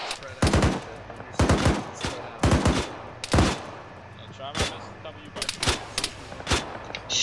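Covering gunfire in the military shooter ArmA 3: loud bursts of automatic rifle and machine-gun fire in irregular volleys, with short gaps and scattered single shots toward the end.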